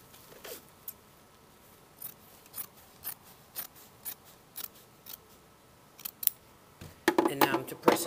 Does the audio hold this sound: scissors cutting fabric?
yes